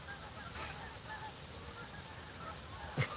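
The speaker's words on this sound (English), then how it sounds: "There's some geese overhead." Geese honk overhead outdoors on a chilly, windy morning of catfish fishing, faint and distant calls scattered through a steady wind-like hiss, with one brief louder honk near the end.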